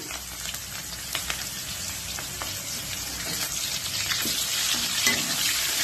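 Onions fry in hot oil in a kadai, giving a continuous rain-like sizzle that grows a little louder toward the end, with no voices.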